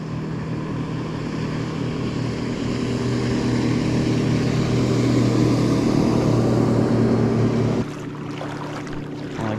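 A motorboat engine drones loudly nearby along a mangrove shoreline, swelling as it passes, then cuts down abruptly to a lower rumble near the end.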